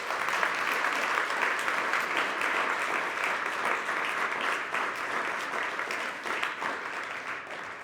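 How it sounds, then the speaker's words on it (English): Audience applause at a live panel event with roundtable discussions, a dense, steady wash of many hands clapping that holds for several seconds and tapers slightly at the end. "Can we give them a big round of applause?"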